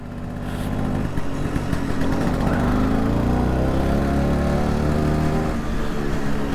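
A 1966 Piaggio Vespa 150 Sport scooter rides along, its small engine buzzing loudly and steadily while the pitch sweeps and shifts through gear changes.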